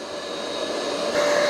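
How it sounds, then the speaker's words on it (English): A Yeedi M14 robot vacuum vacuuming and mopping a floor, a steady close whirring motor drone with a whine that rises slightly near the end. "And now it is vacuuming and mopping."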